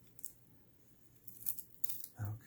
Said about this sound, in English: let's take this tape off the side over here.